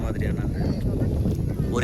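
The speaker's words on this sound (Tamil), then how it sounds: "மேபி இங்கே காற்று நிறைய இருக்குது" Outdoor wind in the Munnar tea-estate hills buffets the microphone with a steady, low, rumbling roar that fills the short clip.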